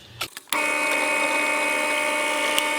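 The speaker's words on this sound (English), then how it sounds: "I'm also going to drill a hole for the earthing wire as well." A power drill bores a hole through a guitar body for the earthing wire, starting after a few brief knocks and then running as a loud, steady whine that holds without a break to the end.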